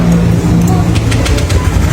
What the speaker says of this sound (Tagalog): Painitin nyo ng konti yung makina, tapos i-rev nyo bigla.